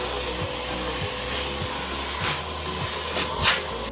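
A Henry Allergy vacuum cleaner runs steadily with a loud, even motor whine and a faint rhythmic rubbing as it is pushed back and forth.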